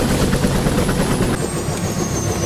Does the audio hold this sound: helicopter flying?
yes